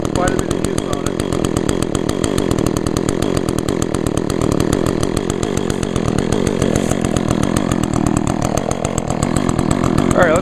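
An Echo chainsaw, about four years old and well used, idles steadily with a rapid, even engine pulse close to the microphone, running continuously throughout.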